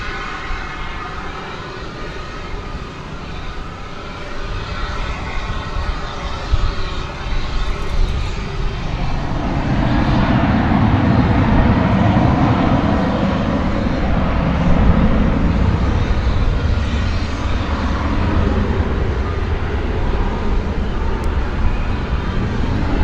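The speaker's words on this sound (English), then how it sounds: "An Airbus A321 coming in from Cancun." An Airbus A321 airliner arriving from Cancun at Dallas Fort Worth Airport, heard at night as a loud, sustained jet roar that swells about halfway through and stays strong to the end.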